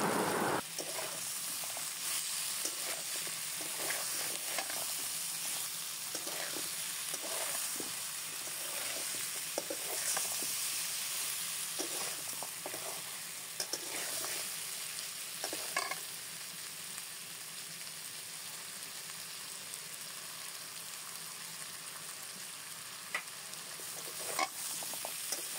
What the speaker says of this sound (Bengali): চিংড়ি মাছগুলোকে খুব ভালো মতো ভেজে নিতে হবে আলু ও এঁচড়ের সাথে।